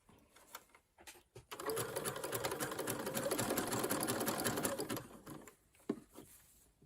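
A sewing machine stitches elastic onto fabric in one steady, rapid mechanical run of a few seconds, framed by quieter handling clicks before and after, with no talking.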